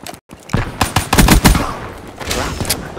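Pistol gunfire from the Black Ops 3 video game, a rapid burst of loud, close shots firing in quick succession and then a looser run of shots, with no talking over it.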